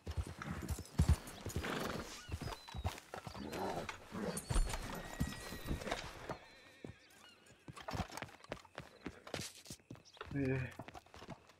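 Horse hooves clip-clop at a quick pace with a few whinnies in the RedM roleplay game, close and busy throughout, while people talk over the hoofbeats.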